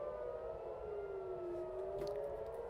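An air raid siren wails steadily in Israel during an alert, its long rising and falling tone carrying at a moderate distance with a faint brief clatter near the end.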